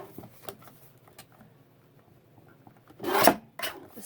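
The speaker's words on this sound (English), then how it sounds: "let's trim down the" Trimming the sides of leftover book page paper for journal cards, a few soft rasping scrapes and small rubs, then one louder close cut or rip near the end, with no talking.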